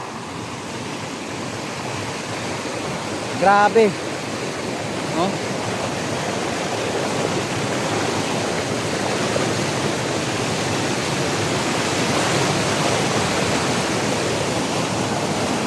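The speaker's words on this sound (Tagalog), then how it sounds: "lakas ng agos ng tubig dito sa ilalim" Strong rushing river current below a crossing during a typhoon in Mindoro, a steady broadband roar of churning water, with brief exclamations from a person near the start.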